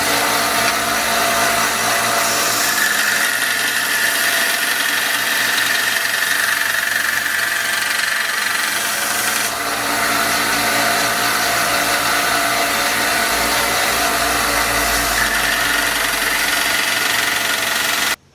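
A belt sander running a 150 grit belt grinds a forged knife blade, a loud continuous motor drone with abrasive rasp holding steady throughout, no talking.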